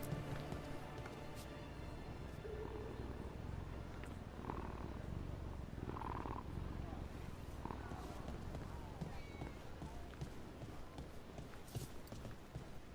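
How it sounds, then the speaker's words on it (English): Cats in Dragon Age: The Veilguard purr while being petted, a soft continuous rhythmic purring rumble mixed with faint game ambience and light padding sounds, quiet and close. "Let me pet kitties."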